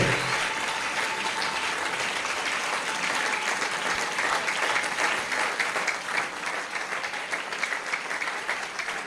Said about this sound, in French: Pode aplaudir pela glória do Senhor.